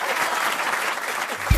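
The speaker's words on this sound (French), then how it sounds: "On peut quand même l'applaudir." Brief burst of studio audience applause on a French radio comedy show, steady dense clapping for just over a second ending in a thump.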